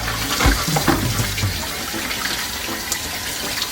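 Tap water runs steadily over a freshly cleaned big crab at a sink, a continuous splashing rush with brief louder spatters early on, close and alone without talk.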